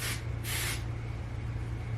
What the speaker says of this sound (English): We're gonna shake this out and spray.